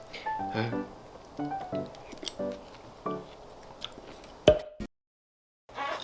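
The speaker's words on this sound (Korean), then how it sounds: "오늘 이렇게 수박을 먹어봤는데" Someone eats watermelon up close, with wet bites and chewing in short bursts mixed with brief voiced murmurs, then a moment of silence near the end.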